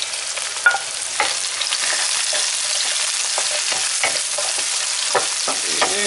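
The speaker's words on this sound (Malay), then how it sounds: "Ini nak ditumis sehingga bawang jadi kekuning-kuningan." Garlic sautés in oil in a pan for dhal with egg, giving a continuous sizzling hiss broken by several spatula scrapes and stirs, close and steady, no talking.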